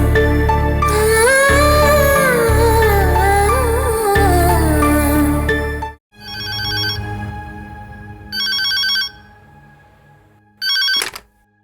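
A telephone rings in a Tamil TV serial scene: after a stretch of loud background music, two short electronic ring bursts sound clearly, about two seconds apart, with no talk over them.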